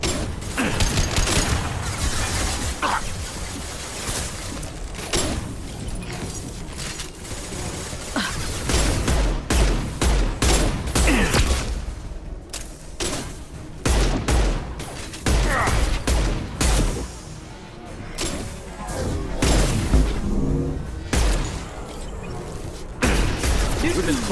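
Bursts of weapon fire and impacts in the video game Mass Effect 2, dense, loud volleys that come and go over a long stretch, with brief gaps between exchanges.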